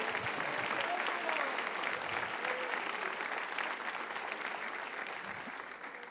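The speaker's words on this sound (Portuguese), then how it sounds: "Você vai aplaudir, aplauda forte." A church congregation applauds loudly and steadily during a sermon, a dense wash of clapping that holds strong throughout and eases off slightly toward the end.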